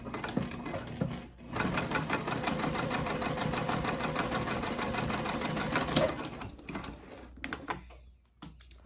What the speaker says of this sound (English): I'm actually going to do a line of double stitching